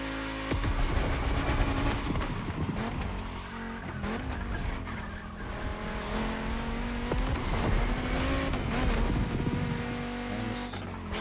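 A car racing at full throttle in The Crew Motorfest, engine roaring loudly and continuously through gear changes, with thumps and impact-like bangs scattered throughout.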